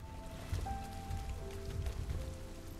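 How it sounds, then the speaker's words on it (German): Rain effects in the video game RIME: a steady patter of rain on surfaces with a low rumbling bed and faint tonal game sounds, continuous and moderately loud with no talk. "Schaut richtig cool aus mit den Regeneffekten hier."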